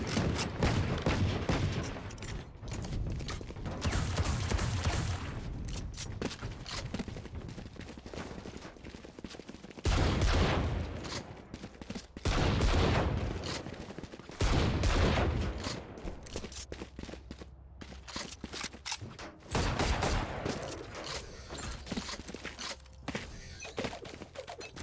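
Gunfire in a collegiate Valorant esports match, with repeated bursts of rifle fire from the Phantom rising out of a constant layer of game sound, fairly loud and spaced in clusters over half a minute.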